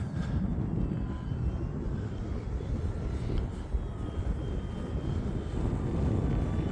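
E-flite Commander mPd RC airplane flying outdoors in winter wind, a thin motor whine over strong wind rumble, steady and at middle distance.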